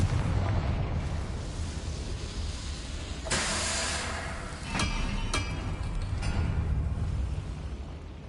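Confringo fire spell explosion in Hogwarts Legacy, a sudden hissing burst followed by a few sharp crackling blasts over a quiet rumbling game background.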